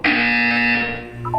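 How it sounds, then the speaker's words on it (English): Loud, sustained electronic buzzer in the video game Portal 2 blares for nearly a second, fading into low game hum before brief chiming tones at the end. "You will hear a buzzer."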